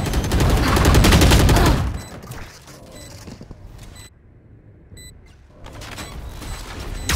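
Rapid gunfire in a Valorant match on the Split map, a dense loud burst of shots for about two seconds, then quieter clicks and scattered single shots trailing off.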